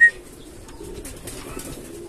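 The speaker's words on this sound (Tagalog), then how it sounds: "Nagbabara na sa trapdoor ang mga ibon natin." Pigeons coo softly at a crowded loft trapdoor during summer training in Pagbilao, Quezon, a brief chirp at the start followed by low, steady cooing from several birds close by.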